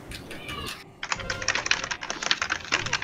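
Gaming keyboard keys clatter in rapid bursts of clicky typing, close and busy, after a short stretch of softer sound at the start.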